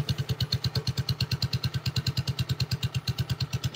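A Honda CT70 clone motorcycle engine idles up close, a loud, steady, rapid putter with even pulses throughout and no talking.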